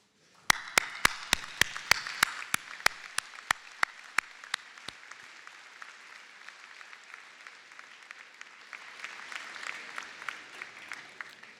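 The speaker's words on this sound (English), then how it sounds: "let us applaud them for their support." Audience at a university convocation ceremony applauds, a sustained crowd clapping that holds steady throughout, with sharp percussive ticks in the first seconds and no voices.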